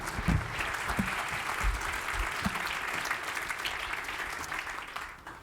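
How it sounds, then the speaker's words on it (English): Audience applause for a volunteer named Kylie at a tech conference talk on SQL injection hacking, a dense steady ovation from a hall crowd that holds for several seconds, then begins to fade at the end. "Give Kylie a round of applause."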